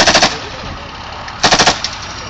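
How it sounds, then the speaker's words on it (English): Close, loud machine gun fire from the top of a British Army Scimitar armoured vehicle during a live firing exercise, two quick bursts of several rounds each over a steady rumble. "you can see the guy on the top of the scimitar with his machine gun"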